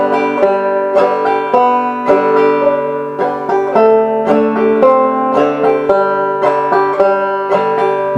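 A banjo played clawhammer style works through the folk tune Skip To My Lou, a steady stream of bright plucked notes and strummed strings in a bouncy, even rhythm, loud and close with no talking.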